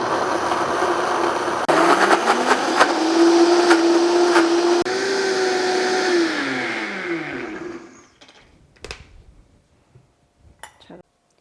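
A blender grinds nuts with vanilla extract into nut butter, a loud whirring motor whose pitch rises and falls under load for several seconds, then winds down and stops, followed by a few light clinks.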